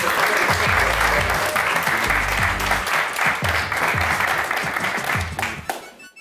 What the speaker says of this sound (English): Let's give John Freeborn a round of applause